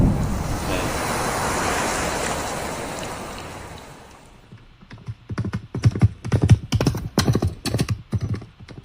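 Horse hooves clip-clop in a 3D game audio demo, a rhythmic run of sharp hoof strikes close by, following several seconds of broad wave-like rushing noise that fades out.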